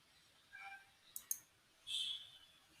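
A computer mouse clicks a few times through a software installer: sharp, faint, close clicks spaced over a couple of seconds in a quiet room.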